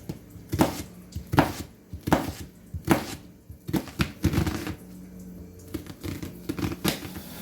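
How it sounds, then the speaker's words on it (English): A knife chops half a large onion steadily on a cutting board, a series of sharp, close taps in an uneven rhythm with brief pauses between bursts. "I'm chopping up 1/2 of a large onion."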